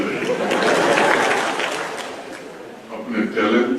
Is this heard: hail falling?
no